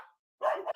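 An indoor dog lets out a short sharp bark, then a brief pause, then a louder near yip with a slight whine.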